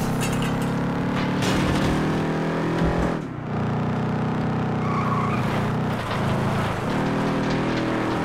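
A racing car engine accelerates hard in the video game Flatout 2, producing a loud, sustained drone. Apart from a brief dip partway through, the roar stays steady, with faint clinks and tire noise mixed in and no voices.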